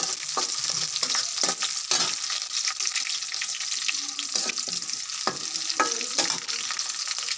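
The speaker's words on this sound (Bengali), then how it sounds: "পেঁয়াজগুলো হালকা বেজে এখন মরিচ ছেড়ে দিয়েছি" Onions and chilies sizzle in hot oil in a pan as the base for a mola fish curry with snake gourd, with steady broadband frying hiss punctuated by stirring scrapes and clinks.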